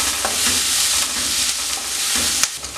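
Sliced onion sautés in a hot pan with a steady, close sizzle, broken by a few soft scraping stirs; no voices.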